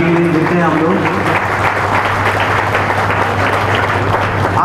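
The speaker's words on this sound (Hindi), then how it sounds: "एक बार जोरदार ताली मैडम के लिए देते हैं हम लोग" A crowd at a welcoming and felicitation ceremony for gold medalist Rupa Rani Tirkey in Chaibasa claps loudly and continuously, with a low hum and some voices mixed in under the applause.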